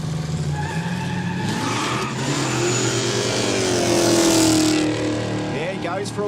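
A hatchback at a no-prep street drag racing day skids and slides with loud engine roar and rising tire squeal, swelling toward the middle before easing off. A commentator talks over it throughout.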